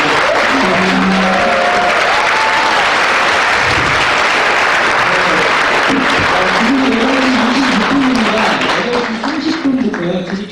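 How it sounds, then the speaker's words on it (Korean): A Korean lecture and talk-show audience gives loud, sustained applause, a dense wash of clapping that fills the room and fades slightly near the end, with a voice faintly audible beneath it. "유시민 전 장관님께 다시 한번 뜨거운 박수"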